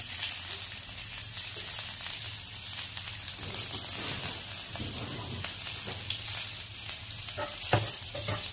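Chopped onion frying in a little oil sizzles steadily and close up, a dense continuous crackle with occasional stirring scrapes and light taps from the pan.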